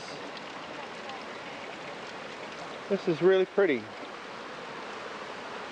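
Steady broadband rush of a stream flowing through a typical Japanese setting in Shimoda, Japan, running continuously throughout, with a person briefly talking over it partway through.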